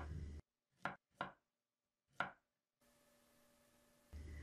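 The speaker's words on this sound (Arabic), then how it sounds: "هقطع شوية خضروات ناكلها مع الأكل" Knife chopping Japanese lettuce and carrots on a cutting board: three sharp, separate chops with pauses between them, close and clear, followed by a faint steady hum.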